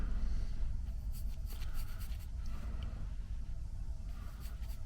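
Pencil scratching steadily across watercolor paper while sketching a girl blowing bubbles, a continuous close, soft rasp with brief strokes and pauses, no talking.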